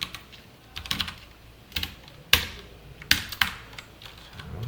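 Someone types on a computer keyboard into Notepad, giving a close, crisp run of irregular key clicks with a few louder, sharper strikes scattered through the burst.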